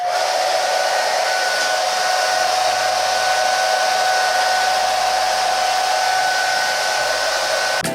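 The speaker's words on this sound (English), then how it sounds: "just go with my blow dryer" A blow dryer used to set a glueless lace frontal wig runs steadily throughout, a loud, constant whooshing hiss with a high whine, close by and uninterrupted.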